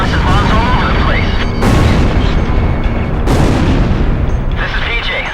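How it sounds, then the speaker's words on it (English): Bombers drop bombs over a burning area in the video game Ace Combat Zero: The Belkan War, with loud, continuous deep booms and rumbling blasts, two sharp explosive bursts standing out, and speech heard over them. "They're just tossing bombs all over the place"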